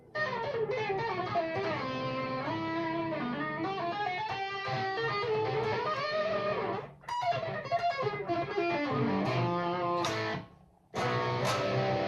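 Electric guitar with a warm, clean tone carrying a touch of dirt, playing sustained melodic licks and chords continuously and up close, with two brief gaps where the notes cut off.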